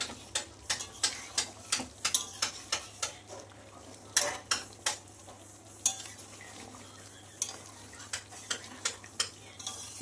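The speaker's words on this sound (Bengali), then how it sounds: "গরম মশলাটা ভালো করে মিশিয়ে দিলাম" A spoon scrapes and clinks against a pot while garam masala is mixed into thick, braised meat curry, giving a steady series of sharp, close taps and scrapes over a faint low hum, with no talking.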